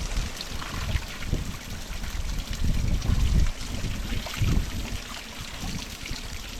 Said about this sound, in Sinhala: උඩින් එන්නේ වතුර පාර.